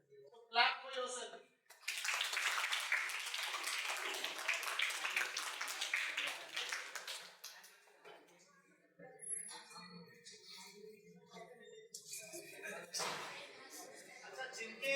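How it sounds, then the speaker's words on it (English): Students at a school Model UN event applaud themselves, a dense, steady round of group clapping lasting several seconds before it fades into scattered voices and chatter. "So clap for yourself."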